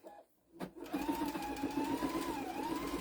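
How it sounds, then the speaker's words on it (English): A sewing machine runs steadily as it top stitches down the side of a zipper bookmark, a close, even mechanical whir lasting nearly three seconds after a brief pause and a single knock. "I have a top stitching going down."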